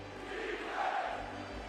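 Knicks home crowd at an NBA playoff game against the Detroit Pistons, a steady roar of cheering spectators filling the arena, swelling briefly in the middle with no clear voices standing out.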